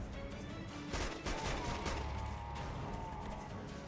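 Gunfire from a weapon in the video game Killzone 2, heard as a dense, steady stretch of shots with a few sharper bursts near the start, close and fairly loud over a busy game soundscape.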